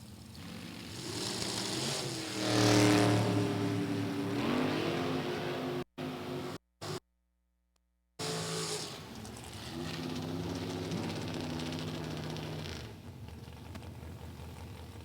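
Drag racing car making a run at Route 66 Raceway, a loud engine roar that swells and revs with rising and falling harmonic tones, broken by brief dropouts, then a sustained engine drone continues.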